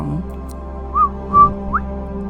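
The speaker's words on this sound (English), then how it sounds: "a quail serenades you with a whistle and song" A quail gives a few short, clear whistled notes, rising and sliding, heard alone over a steady low background hum in a wilderness setting.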